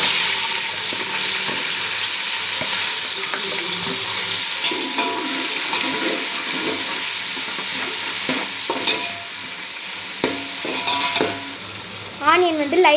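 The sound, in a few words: onions frying and being stirred in pan for biryani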